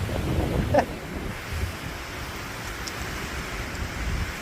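Strong wind on a mountaintop roars steadily against the microphone, a constant dense rush with low buffeting and no clear speech.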